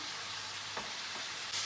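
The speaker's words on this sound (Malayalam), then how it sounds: "ഇതൊരു കുറച്ച് നേരം ഒന്ന് വഴറ്റണം" Diced carrot filling sautés in a pan with a soft, even hiss, faint and steady, with a couple of light stirring scrapes near the end.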